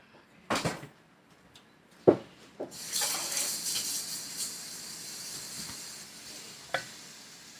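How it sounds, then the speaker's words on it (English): Flour toasting in a pan for gravy is stirred with a utensil, giving a few sharp scrapes and clinks against the pan and then a steady soft sizzle with occasional scraping taps, no voices. "Let me stir it up and get some more little grains of flour."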